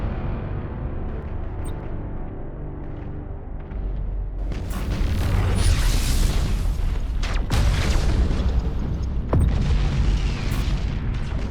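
Spaceship exploding in Battlefleet Gothic: Armada as an Imperial escort is destroyed, a deep rumbling boom that swells into loud sustained blasts and crackling debris, with sharp bursts on top.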